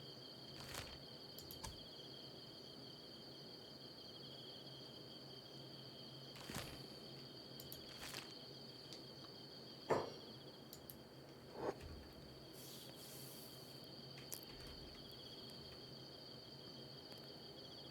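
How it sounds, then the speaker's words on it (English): Crickets chirp steadily in a quiet night scene in the Kenshi game, a continuous high trill under a few soft thuds and clicks. "You can hear the crickets and so forth and so on now"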